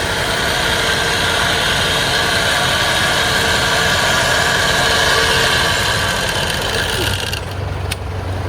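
Offroad vehicle engine revved to charge the battery during winching, a loud steady running drone with a faint whine, dropping and changing near the end, no talk.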